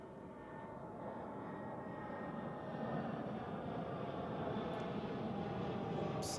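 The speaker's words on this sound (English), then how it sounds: "And here we have Lufthansa. A319 from Frankfurt." A Lufthansa Airbus A319 from Frankfurt comes in to land at Zurich, a faint, steady jet rumble and whine that builds gently over several seconds at a distance.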